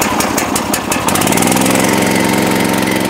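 A Lombardini engine on a Brugger log splitter cranks on its electric starter with a few rapid chugs, then catches and settles into a loud, steady, close-up running drone.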